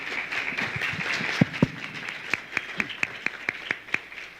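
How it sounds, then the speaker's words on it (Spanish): Audience at a panel on drug policy and human rights applauding Dr. Gerardo Ververa, soft scattered clapping that thins into a slow, regular run of single claps from a few people near the microphone. "Y le pido un aplauso, por favor,"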